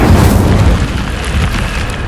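Incendio fire spell cast in Hogwarts Legacy: a loud, dense burst of roaring flame that sustains as a broad whooshing blast for about two seconds, with no talk.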